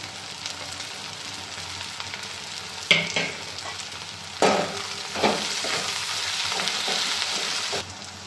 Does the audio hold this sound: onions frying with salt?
yes